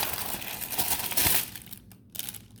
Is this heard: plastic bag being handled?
yes